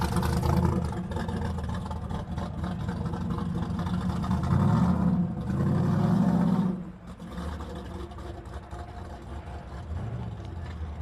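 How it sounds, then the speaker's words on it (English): A race truck at a drag-racing shootout event idles with a loud, steady, rough engine rumble that swells for a couple of seconds midway, then settles back to a constant drone. "Still sounds like a race truck."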